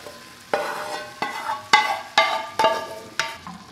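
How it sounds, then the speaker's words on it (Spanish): Chicken and sweet-and-sour sauce go into a pan with al dente vegetables, and a spoon stirs them in a series of distinct scraping strokes about every half second over a quiet sizzle. "le voy a agregar el pollo. Y le voy a agregar la salsa que ya habíamos reservado"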